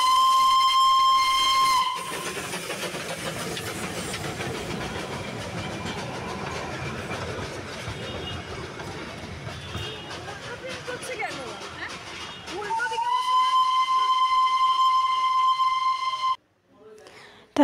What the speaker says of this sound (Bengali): এই যে দেখো টয় ট্রেন আসছে।